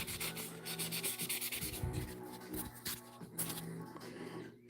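Crayon scrubbing across a surface while personal records are written out, a rapid, close, scratchy rubbing in uneven strokes, with faint background noise and no clear talking.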